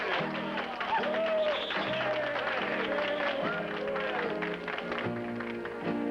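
Audience applause for a country singer at a 1961 show, a crowd clapping under music, while a voice talks briefly over the steady clapping.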